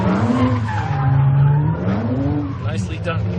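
A Kia Stinger spins a donut at SEMA 2017, its tires squealing loudly with a wavering pitch and the engine revving hard. People talk and cheer over it.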